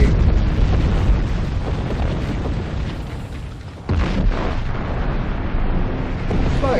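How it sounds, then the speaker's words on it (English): An exploding warp cube in Star Trek Online roars as a loud, sustained booming blast, dipping briefly before a second surge of rumbling explosion that carries on to the end. "Can't get too close to the exploding warp cube."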